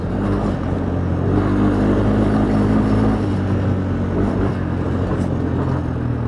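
Honda Foreman 450ES ATV engine held at full throttle, a loud, steady, close roar with a constant low rumble that barely changes throughout.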